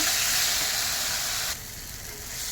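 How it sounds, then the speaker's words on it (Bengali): Spice paste sizzles and fries steadily in a pan before fish is added, a loud, dense hiss that drops noticeably in level about halfway through, with no talking. "আমার মশলাটা প্রায় কষানো হয়ে গেছে। দেখো, খুব সুন্দর করে এটাকে আমি কষিয়ে নেব।"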